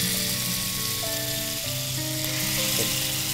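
Skewered Turkish-style chicken kebabs cook on a stove with a steady, loud sizzle, while sustained tonal hums run through the background.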